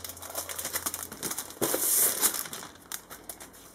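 Plastic wrapping crinkles and tears as a scrapbooking paper kit package is opened, with soft rustling swelling into a brief louder burst of crumpling, close and without talk.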